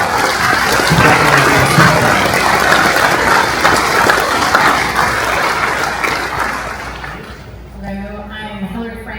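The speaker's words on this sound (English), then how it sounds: "So a quick round of applause for the panel who came from all over." Audience applause for a wildfire discussion panel at a theatre, a dense, loud burst of clapping that fills most of the moment before fading as a voice begins.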